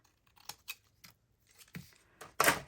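Scissors snip along the edge of a craft card, a handful of sharp separate cuts over a few seconds, close and crisp, with the last cut the loudest.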